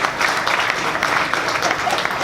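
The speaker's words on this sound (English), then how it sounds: "I think they deserve a round of applause" Steady audience applause at a congressional candidate event, a short continuous burst of clapping filling the room at even loudness.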